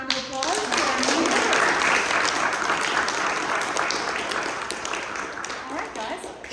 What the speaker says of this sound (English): Let's give them a round of applause for our new